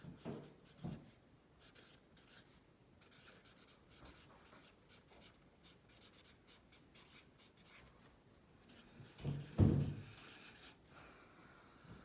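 Marker or chalk writing on a board during an algebra lesson, soft steady scratching strokes with a louder burst of rubbing near the end, alone without talk.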